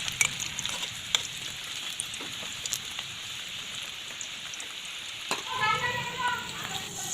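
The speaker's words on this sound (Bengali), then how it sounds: "এইভাবে বড়াগুলোকে ভেজে তুলে নিতে হবে" Fish roe fritters frying in oil give a steady, close sizzle full of fine crackles like rain on a surface, with a few sharper pops. A brief voice-like sound rises near the end.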